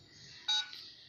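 A single loud keypad tone from a Jio phone, one short DTMF beep standing out over a faint steady background hiss, with no talking.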